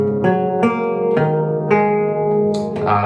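A theorbo in re-entrant tuning plucked note by note, jumping to a high string, dropping and rising again, with bright attacks and long ringing sustain in a resonant room.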